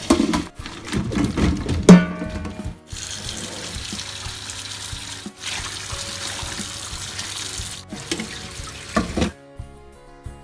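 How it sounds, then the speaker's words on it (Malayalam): Boiled ash gourd for Agra petha being rinsed under running tap water in a sink: a steady, fairly loud gush of water that runs for most of the stretch, with a few brief breaks and knocks as the pieces are handled. "ഇനി ഇത് വെള്ളത്തിൽ നിന്ന് ഊറ്റി ഒരു പ്രാവശ്യം പച്ചവെള്ളത്തിലൊന്ന് കഴുകി വെള്ളം ഊറ്റിക്കളയണം."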